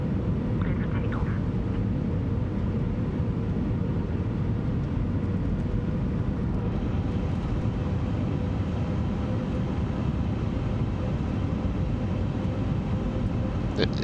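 Airbus A350-1000 taking off in a flight simulator game, a steady low jet engine roar that holds constant throughout, with faint higher tones drifting above it.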